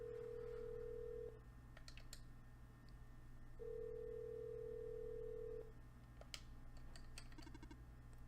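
Phone ringing unanswered in the video game OneShot: two long, steady electronic ringback tones, each lasting about two seconds with a pause between, over a constant low hum and faint clicks.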